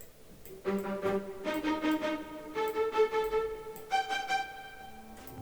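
Short, detached staccato string notes from a free virtual instrument play in a quick rhythmic pattern, bright and plucky, with brief pauses between phrases and no voices.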